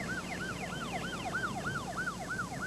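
An ambulance siren wails in a fast, regular up-and-down yelp at moderate distance, repeating about every half second over a low road rumble.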